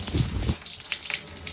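Water from a household shower in a bedroom's bathroom sprays and splashes steadily at low pressure, a soft hissing patter with a heavier gush at the start.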